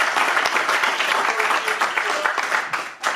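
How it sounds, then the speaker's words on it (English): Sustained audience applause at a TV pilot premiere screening, dense and steady throughout with a slight dip near the end, no talk over it. "Big round of applause for everybody that came out."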